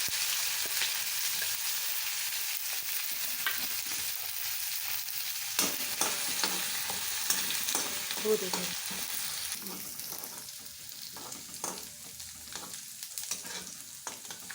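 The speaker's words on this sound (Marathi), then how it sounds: "बडीशोप, धणे आणि मिरची आणि कोथिंबीर पेस्ट त्याच्यामध्ये परतवून घेऊ" Fennel, coriander seeds, chili and coriander paste sauté in hot oil for kachori filling, a steady close sizzle with intermittent scraping and stirring clicks from a spoon, no voices.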